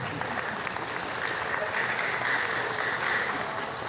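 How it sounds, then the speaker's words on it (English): A room full of schoolchildren and teachers claps steadily at a school Blue Ribbon ceremony, dense and continuous applause with a few faint voices mixed in. "that's not only the kids clapping, that's mostly the teachers who are clapping too"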